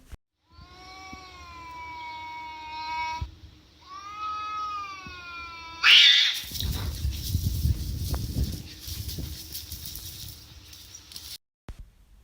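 Cartoon cats yowl in long, wavering drawn-out caterwauls, two stretches of tonal howling, then a sudden loud hiss and scuffle of fighting with thumps and scratches before an abrupt stop.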